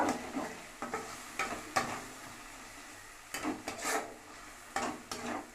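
Spices with chilli, salt and turmeric are stirred in a pan, giving quiet scraping and rubbing strokes in irregular bursts over a low background sizzle.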